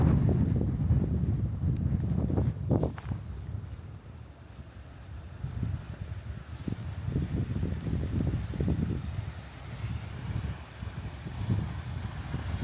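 Wind buffeting the microphone on a coastal headland at Woody Head, St Lawrence, Isle of Wight: continuous low rumbling gusts that swell and ease, close and fairly loud, with no talk.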